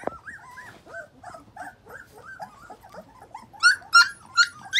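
A mother dog with a litter of seven puppies, filmed outdoors on a warm day, makes a string of low growls and whimpering whines close by, breaking into several sharp, louder yelps near the end; no one speaks.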